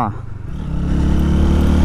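A modified Honda Hornet motorcycle accelerates, its engine note building steadily from low to a loud, sustained roar over a couple of seconds.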